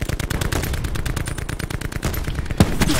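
Rapid automatic gunfire from an enemy engagement in the video game Call of Duty Blackout, a dense, continuous burst of loud shots lasting throughout, with one heavier impact near the end.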